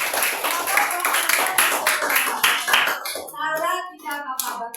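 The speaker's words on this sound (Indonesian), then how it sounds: "tepuk tangan untuk Alia" Classroom clapping for a student fills the first three seconds, dense and steady and fairly close, then fades out as a voice begins talking.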